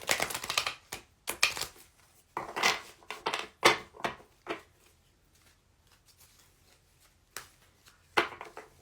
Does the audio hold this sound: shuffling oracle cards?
yes